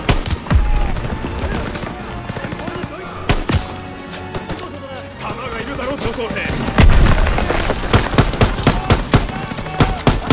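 A grenade goes off during a World War II forest battle in the Call of Duty: WWII campaign. Loud booms land amid dense, continuous machine-gun and rifle fire, with voices shouting under the combat.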